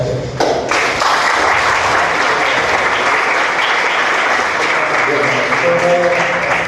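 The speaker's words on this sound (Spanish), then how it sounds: "pido un aplauso para los expositores y los profesores" An audience at an environmental panel session breaks into sustained applause, loud and steady from start to finish, with a brief voice at the very start and a few speaking voices rising over the clapping near the end.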